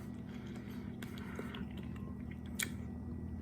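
Close, quiet chewing of shrimp fried in bacon grease, soft wet crunches and squishy bites spread over a few seconds, with one sharper crisp bite near the end, over a faint background hum.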